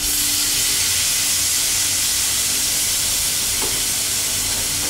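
Fish stock hitting a hot pan for seafood chowder, a loud, continuous hissing sizzle with steam, unbroken for the whole stretch.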